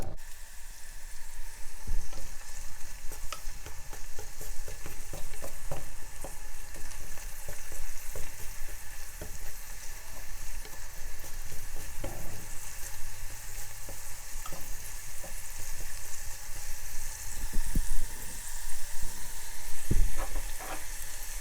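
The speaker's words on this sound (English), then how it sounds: "It started sizzling a little bit." Steady crackling sizzle of garlic frying in hot oil for seafood kimchi soup, with small pops and the occasional scrape of stirring, continuous and close.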